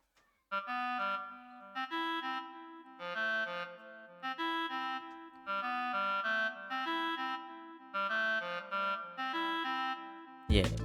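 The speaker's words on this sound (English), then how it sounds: "I have this clarinet sound" A clarinet preset from the FL Studio Morphine plugin plays a simple melodic phrase in repeated bursts over a sustained low note, fairly quiet, with a sudden loud hit right at the end.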